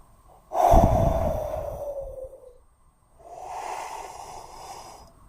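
A ResMed AirCurve 10 BiPAP machine pushes air in two whooshing breaths, a loud gusting surge that fades slowly, then a softer second push after a pause, close by with no talking.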